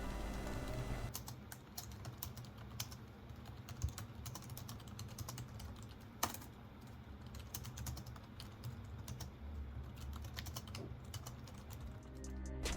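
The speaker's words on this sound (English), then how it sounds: "This is how the keyboard sounds." Quiet, rapid clicking of keys on an 11-year-old HP Pavilion G6 laptop goes on continuously for several seconds, with a few sharper taps standing out and no talking.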